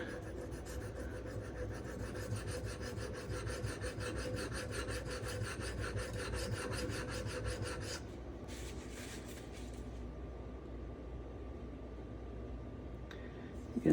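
A Magnacut steel knife blade rubs back and forth on a Shapton Pro 5K whetstone, a steady close rasping stroke rhythm that stops partway and gives way to quieter scraping.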